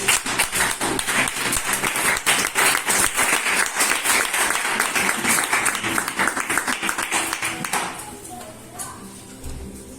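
A church congregation applauds steadily for several seconds, a dense wash of clapping that fades near the end.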